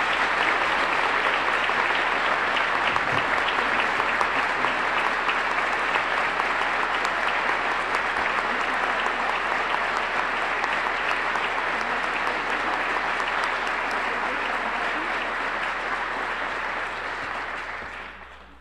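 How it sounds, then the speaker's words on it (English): Sustained audience applause at the swearing-in of a new police chief, a loud, steady clapping crowd that continues for many seconds before tapering off at the end, with no talk over it. "Let's give him a round of applause."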